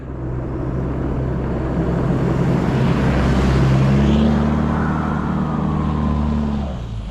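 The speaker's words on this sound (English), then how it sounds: "Just going to have a drive around, see if I can find some tracks" A vehicle drives along mountain tracks in the Cox's River region. Its engine gives a steady, loud, close rumble that rises slightly in pitch, then eases off near the end; no one talks.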